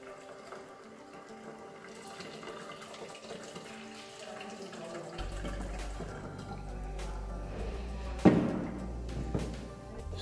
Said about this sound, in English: Pour boiling water into the steam generator.